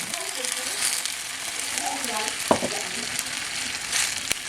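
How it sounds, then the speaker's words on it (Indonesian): Carrots sauté in a hot pan with a steady sizzle and frying crackle, with a couple of sharp utensil clicks and light stirring sounds. "kita tumis sebentar wortelnya sampai agak sedikit layu"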